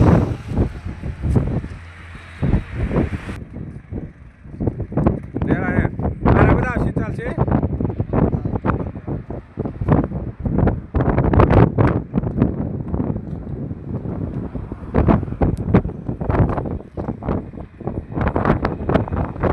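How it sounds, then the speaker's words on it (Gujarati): Strong wind buffets the microphone on the Sudarshan Setu bridge, a rough, steady roar that runs the whole time beneath nearly continuous talking. "પવન બહુ આવે છે, કદાચ અવાજ ચોખ્ખો આવતો હોય કે ના આવતો હોય"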